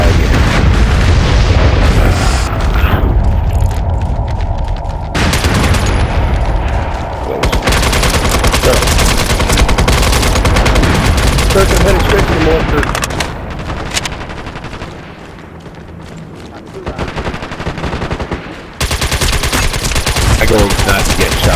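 Dense machine-gun fire and booming explosions fill a large-scale battle in the online shooter MAG, loud and nearly continuous, with bursts overlapping heavy blasts and only brief lulls.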